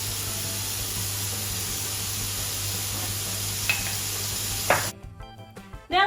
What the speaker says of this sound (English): pop all the shiitake mushroom in the pan and cook it